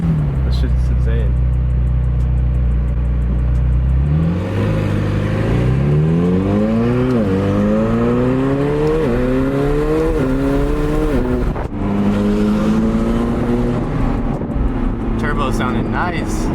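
A 1000hp twin-turbo supercar, a McLaren 720S or Audi R8 V10, pulls hard through the gears, its loud engine note climbing in repeated rising sweeps between shifts, with steady roar throughout and voices talking over it from inside the car.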